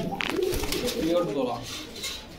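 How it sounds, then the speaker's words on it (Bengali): A pair of King pigeons at a market stall coo in soft repeated throaty calls, with people talking nearby over the birds. "এক জোড়া কবুতর আছে"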